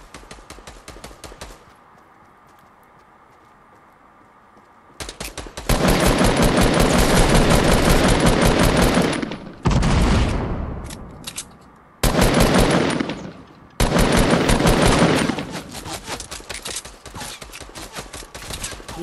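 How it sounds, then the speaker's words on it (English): Bursts of rapid automatic gunfire and explosions in Fortnite come in loud, dense volleys separated by short pauses, with sharp cracking blasts throughout. "I hear explosions."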